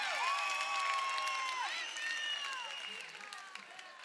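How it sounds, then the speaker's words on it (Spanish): Crowd applause and cheering for a drag queen at a carnival drag gala on stage, moderately distant under whistles and high vocal shouts, gradually fading. "¡Que se oiga ese aplauso, Equinox!"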